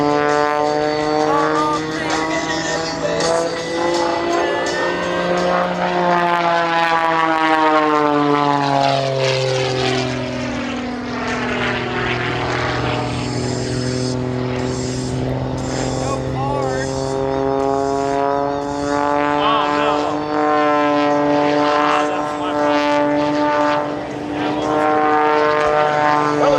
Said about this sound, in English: Slow ride for him as he pulls the stick back, heads straight into the sky, rolling the aircraft to the left.